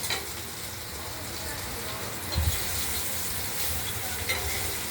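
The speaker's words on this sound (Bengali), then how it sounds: "কত তিনটে আলু ভাজা হচ্ছে আলুগুলো ভাজা হয়ে গেছে" Potatoes sizzle steadily as they fry in a pan, with a few stirring scrapes and one brief louder clatter midway, the hiss close and even throughout.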